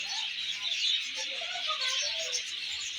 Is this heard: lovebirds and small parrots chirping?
yes